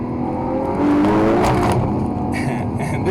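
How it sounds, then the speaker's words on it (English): A 2012 Ferrari FF with its 6.3-liter V12 roars loudly and close by, swelling as it revs and passes, with a brief high squeal near the end. "Of course, being a Ferrari, the most important thing is the engine."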